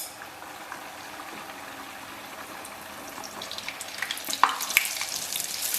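Youtiao dough sticks frying in oil heated very hot in a wok, a steady soft sizzle with crackling bubbles that grows busier and louder toward the end.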